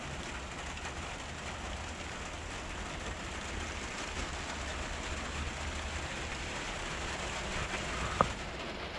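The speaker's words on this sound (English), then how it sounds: "It's raining." Rain falls outside a converted camper van in Falmer, East Sussex, England, a soft, even patter heard from inside with a single brief knock near the end and no talking.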